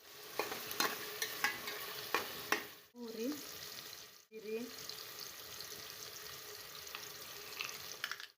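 Onions browning in two measures of oil in a pan for khichdi, a steady close sizzle with scraping stirs and a brief lull partway, someone speaking faintly underneath.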